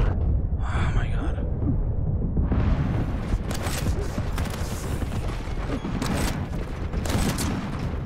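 Dense, rapid bursts of gunfire and explosions from the video game Quake Champions, loud and continuous, with a player's brief exclamation at the start.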